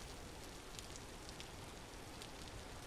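Steady rain falls in the Vintage Story survival game, a dense, even hiss with faint scattered droplet ticks that runs unbroken from start to finish without any talking.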